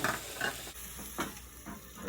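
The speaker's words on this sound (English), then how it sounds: "The recipe did say enjoy the sizzle." White wine hits garlic in a hot pan for risotto, giving a faint, steady sizzle with a few scraping stirs, quiet and close, with no talking.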